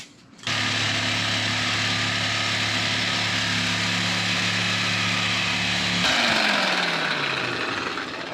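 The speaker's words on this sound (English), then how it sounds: "let me get that Sawzall and we'll get the cutting" A Sawzall reciprocating saw cuts through a Corvette muffler exhaust, starting abruptly and running loud and close with a steady buzzing drone, then its pitch slides down as the cut finishes.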